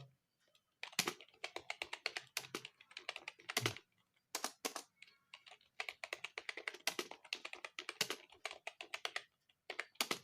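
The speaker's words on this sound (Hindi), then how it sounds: "टाइप करते वक्त कभी कभी गलतियाँ भी होती हैं" Fast typing on a computer keyboard, close and crisp, comes in dense bursts of rapid key clicks separated by short pauses, with no voices.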